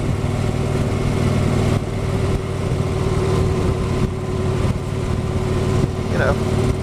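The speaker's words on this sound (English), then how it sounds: "You can still hear his engine roaring away" A steady motorcycle engine drone runs throughout, a low rumbling hum that stays constant and fairly loud, with faint wind-like noise over it.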